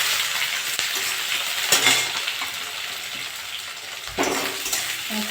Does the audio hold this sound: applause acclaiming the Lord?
no